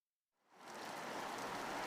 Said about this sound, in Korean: 무더위 속에 내린 소나기는 역시 강했습니다.